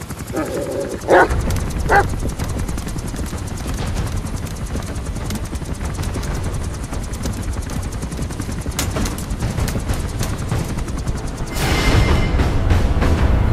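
A loyal puppy-raised companion dog in Metal Gear Solid V: The Phantom Pain barks a few times early on, sharp and close, amid a steady bed of game gunfire and ambient noise, with a louder burst of action near the end.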